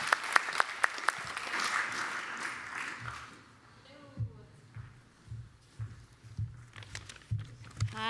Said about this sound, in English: please, a big round of applause for Rhiannon from Vida